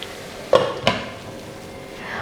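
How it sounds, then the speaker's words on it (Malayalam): A lid set down on a cooking pot of tomato and onion for tomato rice, giving two short, close metallic clunks a fraction of a second apart, with quiet kitchen background afterward. "അപ്പോൾ നമുക്കിതൊന്ന് മൂടി വയ്ക്കാം."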